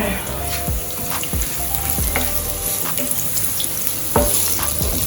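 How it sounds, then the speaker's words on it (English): Ingredients sautéing in a pan for a Jamaican corned beef and spaghetti dish, a steady close sizzle broken by several sharp scrapes and clatters of stirring. "we have to saute our stuff, let all the nice flavors come out"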